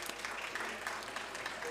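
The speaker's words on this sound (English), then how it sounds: "Round of applause, please." A conference audience at a talk on young farmers gives faint, distant applause, a soft continuous patter of many hands with no pauses.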